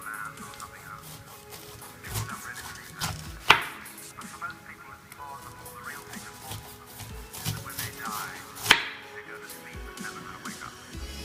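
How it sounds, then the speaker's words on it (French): A knife slicing the two ends off a pineapple on a cutting board, two sharp loud chops a few seconds apart standing out over a quiet room background and soft handling noises. "Donc on va commencer par l'ananas et on va couper les deux extrémités."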